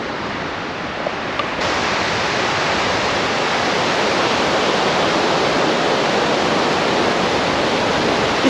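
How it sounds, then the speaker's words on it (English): West coast ocean surf at Pachena Beach, a steady loud roar of breaking waves washing close by, dense and continuous with no talk. "The sound of being out here next to the west coast waves."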